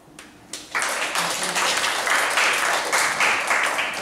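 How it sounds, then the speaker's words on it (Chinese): A hall audience breaks into sustained applause for a special guest after a short lead-in, a dense, even clapping roar that holds steady to the end. "那我们热烈掌声谢谢王若琳老师来当我们的特别嘉宾哦"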